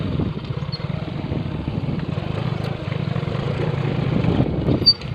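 A lowered motorcycle riding along a road, its engine a steady low rumble throughout with road noise and a brief louder bump near the end.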